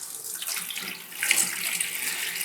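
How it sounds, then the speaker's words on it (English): Water rushing through the siphon hose of a gravel vac on a nano reef aquarium, a steady close hiss and gurgle that briefly swells. "and that will start our siphon."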